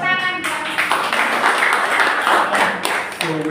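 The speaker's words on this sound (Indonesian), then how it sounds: "Let's clap for it." A church congregation breaks into clapping between stretches of a speaker's voice, a loud, dense burst of hands lasting a few seconds.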